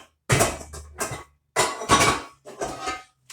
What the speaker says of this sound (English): Got to grab my handy dandy beautiful pot there, and I got to get the lid to it.